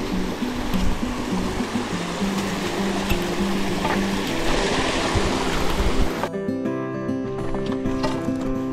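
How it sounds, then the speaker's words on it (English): A small waterfall on a creek near Sykes Camp in Big Sur gives a loud, dense, continuous rush for about six seconds before music takes over. "Little waterfall here."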